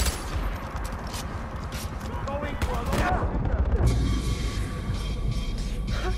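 Gunfire in the shooter Far Cry 4: rapid, loud bursts of shots rattle out in quick succession, building into a heavier volley near the middle before settling into a lingering ringing tail.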